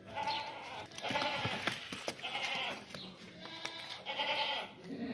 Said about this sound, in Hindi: दूध कंफर्म देने वाली बकरी है